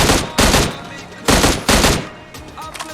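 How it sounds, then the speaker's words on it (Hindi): Bursts of automatic gunfire in a shooter video game, two loud sustained volleys separated by short pauses, with fainter shots trailing off at the end. "मैं इसके पीछे से फायर कर रहा था"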